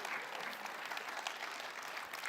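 A church congregation applauds in a steady, dense wash of clapping that holds at an even level from start to finish, with no voices rising above it.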